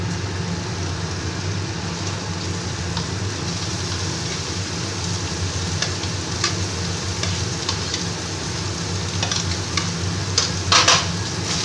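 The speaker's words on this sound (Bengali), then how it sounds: "মাছটা দিয়ে আমি ভালো করে এবার ভেজে নেব" Fish fries in a pan with onion, garlic and spices, giving a dense, constant sizzle that stays steady throughout, with faint scraping and clinks of a spatula near the end.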